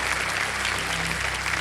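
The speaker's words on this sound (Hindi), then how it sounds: "ये अच्छी बात हो गई, ताली बजिए।" A studio audience on the quiz show Kaun Banega Crorepati claps steadily and loudly for the whole short burst, with a faint tonal hum underneath and no one speaking.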